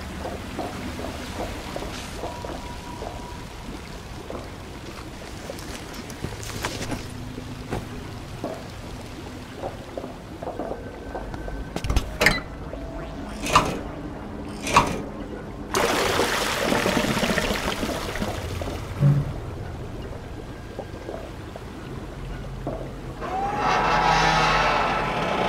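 Water trickles and flows steadily where chemicals are flushed in the game We Happy Few, a low continuous wash broken by a few sharp knocks and a louder surge of rushing water partway through.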